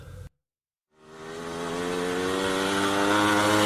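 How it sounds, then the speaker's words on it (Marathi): A motorcycle engine starts up after a short silence and revs into a steady, rising drone with a strong buzzing pitch. It sounds close and loud, with no talking. "मोटरसायकल"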